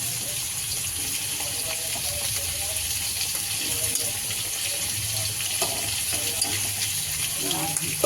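Potatoes frying in hot oil in a home kitchen, a continuous crackling hiss with faint clinks and stirring over a low hum, with faint background voices.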